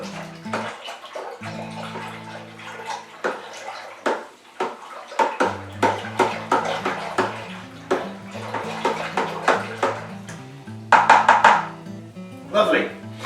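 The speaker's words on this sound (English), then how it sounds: "And now we're going to give it a good stir." An apple cider kit mixture is stirred in a homebrew fermenter, producing repeated sloshing, swirling water sounds in rhythmic surges, close and fairly loud, with brief talk near the end.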